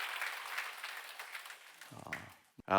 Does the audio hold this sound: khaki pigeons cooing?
no